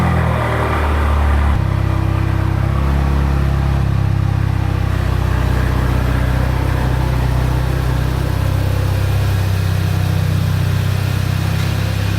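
A car engine runs steadily and close by the whole time as the vehicle is turned around during a DIY camouflage wrap job, idling with a few mild rises in revs and no one speaking.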